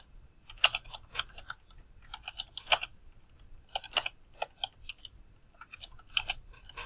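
Typing on a computer keyboard: quiet, close key clicks come in irregular bursts with short pauses between, heard alone with no voices.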